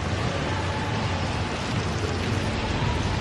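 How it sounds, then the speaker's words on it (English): Steady outdoor rain pours down as a dense, continuous broadband hiss, loud and close, with no voices over it. "And it's raining again."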